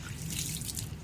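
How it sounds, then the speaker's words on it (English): Water poured onto the soil of a potted ficus plant, a steady close trickling and splashing that runs alone and unbroken for about a second. "Finally, water the plant thoroughly, making sure the soil is evenly moist."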